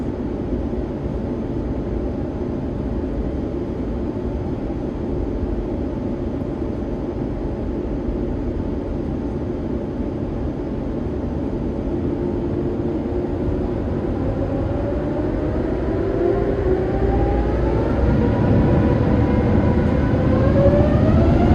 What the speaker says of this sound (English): let you enjoy this triple stage spool up as we took off